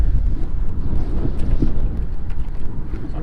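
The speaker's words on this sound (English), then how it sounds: "Sorry about the wind." Strong wind on a lake buffets the microphone aboard a small fishing boat in a constant low roar, with gusty rumbling that never lets up.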